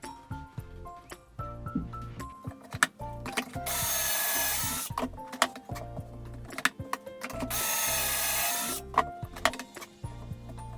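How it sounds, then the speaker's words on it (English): A drill boring pocket holes through a Kreg Jig into wood: two sustained high-pitched whirring bursts of drilling, each lasting over a second, set between clicks, clunks and handling of tools and boards, close and fairly loud. "That's a pocket hole drill setup, a Kreg Jig."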